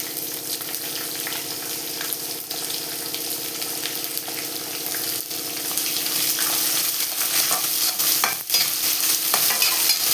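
Chana dal, onion and greens fry and sizzle in a pan for a South Indian meal, a steady hiss broken by scraping stirs. The sizzling grows louder partway through, with no talking.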